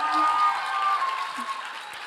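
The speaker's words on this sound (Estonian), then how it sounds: "Tehke üks aplaus neile" Audience applause at a conference gathering, a steady wash of clapping hands sustained for about two seconds at moderate level.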